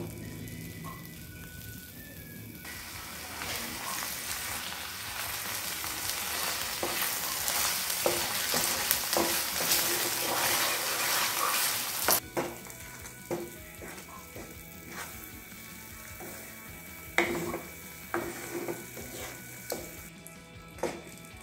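Red chutney cooking on low heat in oil until the oil separates, giving a continuous bubbling sizzle. Stirring scrapes and clinks are heard, and the sizzle drops after the midpoint, leaving sparser pops and spoon knocks.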